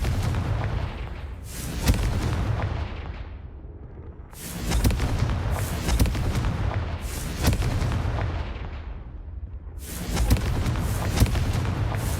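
Repeated fiery spell blasts in a fantasy wizard action game, loud booming bursts that each decay into rumble, about four explosions spaced a few seconds apart.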